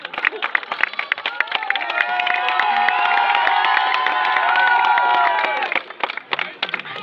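A comedy-show crowd, half of them drunk, bursts into applause and cheering, with sharp claps and whoops swelling into a sustained roar before breaking off into scattered clapping.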